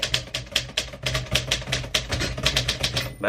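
Rapid, uneven typewriter keystrokes clack in quick bursts, close and fairly loud, with no voices.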